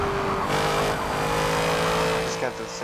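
A 6.2 liter V8 car engine in Forza Motorsport 7 drones and revs steadily under game sounds, with a shift in pitch partway through and a voice talking over it.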